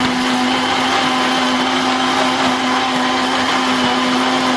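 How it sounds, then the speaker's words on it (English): A blender whirs steadily as it blends a protein shake made with milk and chopped Kinder Bueno. The motor holds one loud, even whine for the whole stretch, with no talking. "Hopefully the blender's strong enough."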